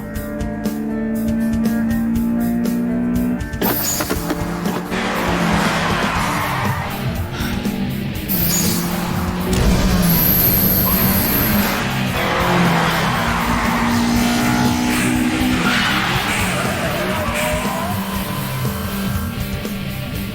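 A Toyota Levin race car in an anime street race, engines revving hard with tire squeals and skidding, loud and dense throughout, mixed with music and brief shouts.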